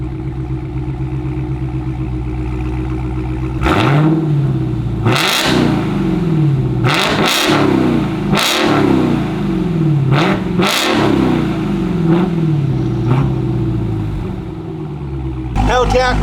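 A Dodge Hellcat Redeye with a Borla Atak exhaust, idling loudly, then blipped through a series of sharp, aggressive revs in quick bursts close by before settling back to idle.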